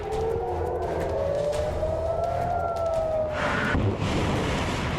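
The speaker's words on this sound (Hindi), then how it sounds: "सायरन की आवाज गूंज रही है।" An air raid siren in Haifa, Israel wails with a rising and falling tone, loud and continuous, joined partway through by a broadband rumble of other noise.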